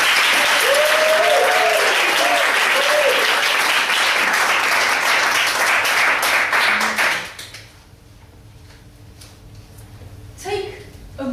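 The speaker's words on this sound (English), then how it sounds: "So, we see a big round of applause." An audience at a regional science communication competition breaks into a loud, sustained round of applause that fades out after about seven seconds into a quiet room with faint stray claps.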